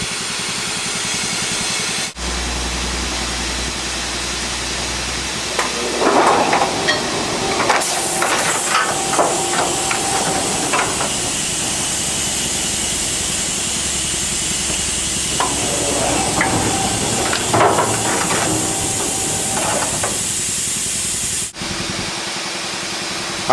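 Mitek floor tracker pressing metal truss plates into a wooden truss, with heavy clunks and bursts of mechanical rumble and hiss in two busy passages over a steady machine drone.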